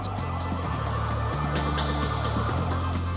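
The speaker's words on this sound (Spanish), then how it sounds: "Reconoció las sirenas desde lejos." Wailing police sirens in the distance, continuous and steady, rising and falling in stepped tones over a constant background rumble with no voices.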